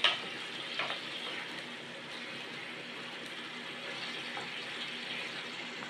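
Fried potatoes being stirred together in a pan with a little hot water, giving a soft continuous sizzle and bubbling, close and moderately quiet, with faint scraping at the start and no talk.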